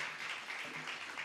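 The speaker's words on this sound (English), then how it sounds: "give a round of applause" A crowd at a 2017 Seattle candidates forum claps in a show-of-hands applause vote for a City Attorney candidate, a faint, distant patter of clapping lasting only a moment.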